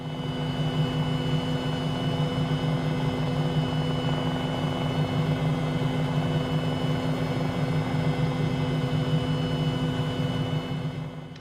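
MD500E helicopter on a slow landing approach in Microsoft Flight Simulator, a steady loud rotor and turbine drone holding constant throughout with no voices.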